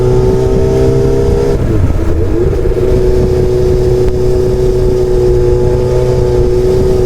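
A 2011 Honda Hornet 600 motorcycle engine while riding, a loud steady drone with a brief dip in pitch as the rider shifts, then holding a constant note, close and alone.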